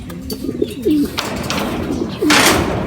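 A pigeon coos loudly and close by, a few throaty rolling calls with brief pauses between them.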